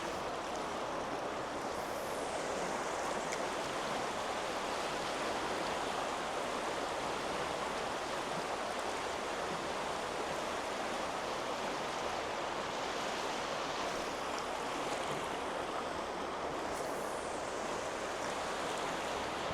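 River rapids on a trout stream rush with a continuous, even roar of churning water that holds steady throughout, with no voices.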